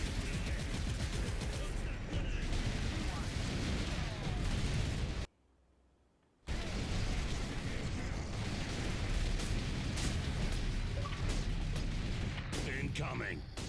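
Incoming gunfire in Warhammer 40k Space Marine: heavy, roaring battle fire and blasts run loud and near, broken by a sudden short silence before the barrage resumes, with a voice talking over it.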